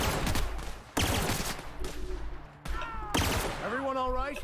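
Gunfire in The Outer Worlds with a sniper nearby, loud sharp bursts of shots that cut off abruptly, joined by warbling electronic tones near the end, with voices speaking over the fighting.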